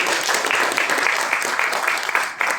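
An audience claps together at a crowded Jai Siya Ram gathering in Delhi, dense, steady applause that fills the whole moment, loud and close without a pause.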